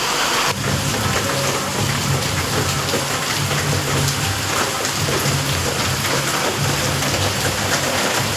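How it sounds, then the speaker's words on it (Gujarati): Heavy rain pours steadily and loudly, a dense hiss of drops drumming on surfaces without letting up, with a faint low rumble underneath. "અને વરસાદ પણ બહુ ચાલુ છે."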